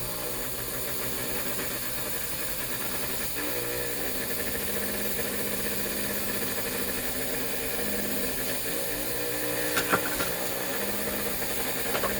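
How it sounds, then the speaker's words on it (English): Small electric motor of a 1946-50 Seaboard toy coal loader running, a faint steady hum with light mechanical rattle and a couple of small clicks near the end. "so the motor works good, travels good"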